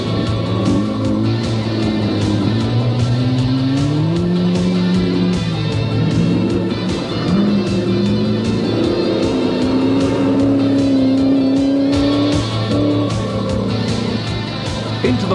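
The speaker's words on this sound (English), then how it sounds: "Former ACT champion and Australian Rally sprint winner John Waterhouse had powered the Reliance Rotary RX-7 into 11th place" Rally cars, including a Reliance Rotary RX-7, racing on a stage: loud continuous engine drone with rising and falling revs and changing pitch, close by, with a narrator speaking over it.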